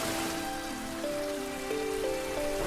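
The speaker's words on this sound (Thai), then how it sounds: "คงต้องหาที่หลบฝนกันอีกแล้วแหละ" Rain falls as a steady, even hiss in an animated story, with a soft melodic line of sustained tones playing over it.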